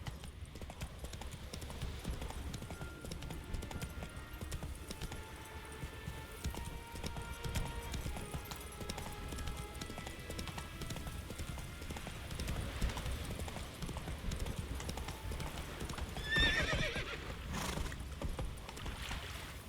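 Hooves of the horse Roach in The Witcher 3 clip-clop at a steady gallop for the whole stretch, moderately loud and even, with a brief snort or whinny-like burst near the end.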